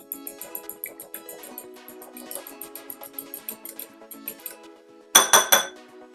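An egg whisked in a bowl while baking almond cookies gives quick, rhythmic metallic clinks that tick along steadily, then finish in a few louder, harder strikes near the end.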